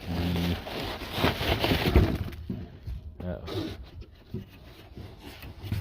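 Unboxing a new replacement radiator for a 2007 Dodge Caravan: close rustling, rubbing and crinkling of packaging with a few sharp cracks and scrapes, continuous and fairly loud, with brief low talk mixed in.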